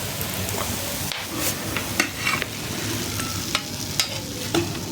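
An egg fries in oil in a pan, a steady close sizzle with scattered sharp pops and crackles throughout and no speech.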